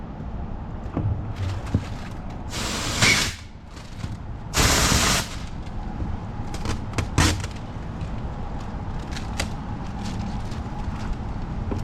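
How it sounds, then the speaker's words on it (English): Compressed air blasting off leftover window tint glue, with two strong broadband hissing bursts of about a second each and several shorter puffs over a steady background. "compressed air will take it off"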